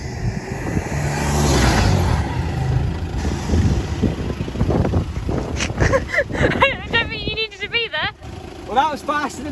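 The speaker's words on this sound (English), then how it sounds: "a brake test to see the current brakes, which are 312 mil, how far it takes to stop from 20, 40 and 60" A Mk2 Seat Leon FR with 312 mm brake discs accelerates with a rising engine note, then slows to a stop during a brake test. Wind rushes over the microphone, and people talk over the car toward the end.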